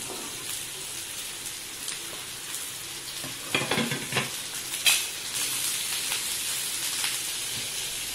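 Sliced onions with capsicum and a little salt fry in a pan for onion bhaji, a constant crackling sizzle with a few louder bursts of stirring and scraping midway.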